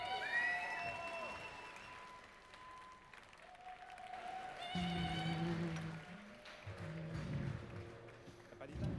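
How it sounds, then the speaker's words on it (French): An audience applauds a latte art competitor at a French barista championship final, steady clapping and crowd noise heard from a distance, with a voice speaking over it. "on l'applaudit bien fort, messieurs, dames"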